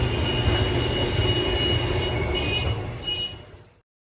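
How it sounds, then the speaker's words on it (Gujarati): A railway train rumbles past a village with heavy wheel and wagon noise, holding loud and steady before fading out toward the end. "અને આ જો અમારા ગામમાં રેલવે ટ્રેન છે."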